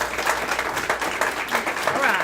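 An audience at a mayoral round table breaks into applause, a steady close patter of many hands clapping, and a voice talks over it.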